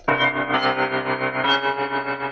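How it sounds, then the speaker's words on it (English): A sustained synth tone runs through Bitwig Studio's tremolo effect set to a sine wave, its loudness pulsing smoothly and steadily up and down, alone and close. "So when we turn on the Tremolo, turn it to sine wave, it's gonna do that little like, it's kind of like a delay effect"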